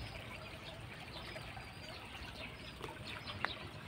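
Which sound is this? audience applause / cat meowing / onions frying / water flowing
water flowing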